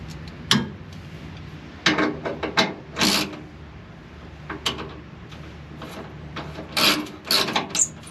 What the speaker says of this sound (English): You just loosen the bolt up just enough.